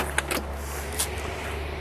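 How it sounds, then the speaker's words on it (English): The door of a restored 1965 Pontiac GTO is worked, giving a few short metallic clicks and a soft latch thump close by in a quiet space. "Let's check the operation of this door."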